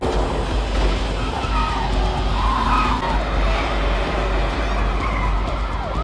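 Stolen car speeding away in a film chase, tires skidding and the engine roaring under a dense, continuous wash of traffic noise and a faint siren.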